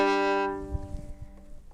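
One off-the-string bow stroke on a bowed string instrument, played with more let go, rings briefly and fades within half a second, followed by faint low handling thumps, close and without speech.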